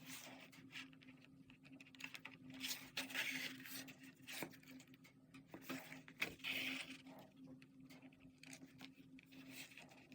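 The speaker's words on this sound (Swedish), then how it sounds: "Och så går jag upp genom lädret och ner i nästa hål så att jag liksom går upp och ner." Needle and thread drawn by hand through leather while a kidney bag is stitched, giving soft, close scraping and rustling pulls that recur irregularly at low level, with no talk.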